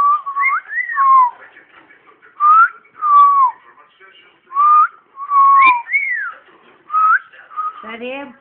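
A pet bird whistles a series of clear, sliding tonal phrases, each about half a second long, with short pauses between; nearby and fairly loud, ending with a brief, raspier call.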